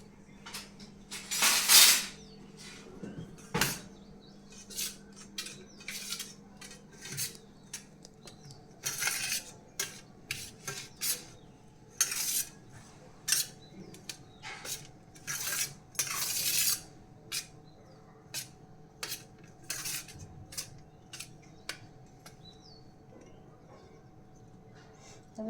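A spoon mixes sev khamni with raisins and cashews in a bowl, giving quiet, irregular metallic clinks and taps against the dish, some sharp and bright, spread across a long stretch with soft pauses between.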